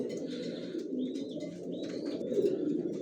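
Racing pigeons in a loft coo in a continuous low, throaty murmur, with a few thin chirps and whistles rising above it, close and steady throughout.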